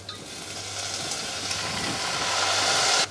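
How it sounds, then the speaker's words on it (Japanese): Sake poured into salmon flakes frying in a pan makes a steady, rising steamy hiss that swells and cuts off sharply at the end. "お酒を加えてさらに、炒めていきます。"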